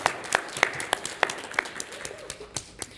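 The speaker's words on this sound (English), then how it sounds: "So if you could please join me in giving him a big round of applause for the nomination." Scattered, uneven clapping from a small audience at a city council work session, sharp individual claps close by rather than a full ovation, with faint voices murmuring underneath.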